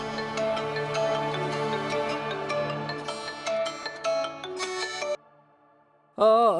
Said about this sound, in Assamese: ফোন আহিছে।